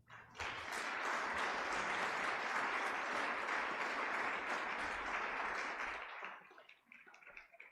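A large lecture audience at Providence College bursts into sustained applause, a dense steady wash of clapping lasting several seconds before quickly tapering to a few scattered claps.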